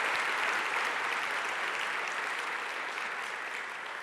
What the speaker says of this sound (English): let's have another round of applause for these winners.